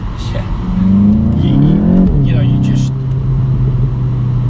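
A Volkswagen Golf GTI TCR engine revs up and accelerates, pitch rising then settling into a steady drone, with a person talking over it.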